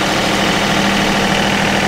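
A loader tractor engine held at 1600 RPM gives a loud, steady, unbroken drone with a deep low-end hum and a continuous mechanical vibration.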